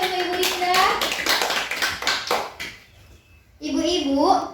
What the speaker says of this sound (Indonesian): Aplaus, Bu, untuk Ibu Dinda.